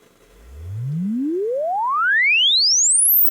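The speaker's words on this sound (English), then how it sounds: "so that is a frequency sweep" A pure sine tone sweeps smoothly upward from a deep hum to a piercing high whistle over about three seconds, steady and loud, then cuts off, during impulse response measurement of a Cry Baby wah pedal.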